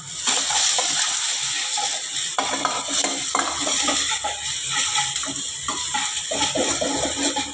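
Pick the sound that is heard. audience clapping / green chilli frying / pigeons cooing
green chilli frying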